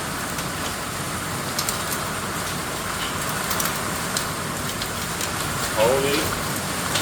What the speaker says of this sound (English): it was absolutely pelting down with hail